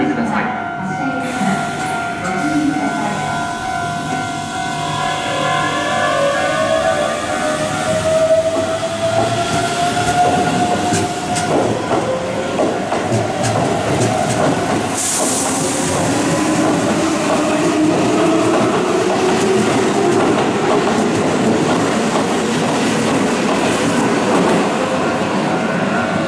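A Keihan Electric Railway train rumbles through Kozenji Station in Japan at speed, loud and sustained, with screeching wheel tones and clattering over the rails.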